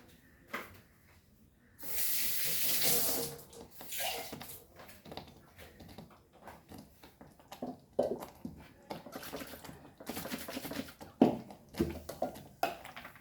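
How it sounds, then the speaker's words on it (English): Water is poured into a thick Goan mushroom xacuti gravy in a brief hissing rush of about a second and a half, followed by scattered soft clatters and stirring knocks. "इल्लेशें उदक घालून घेवया"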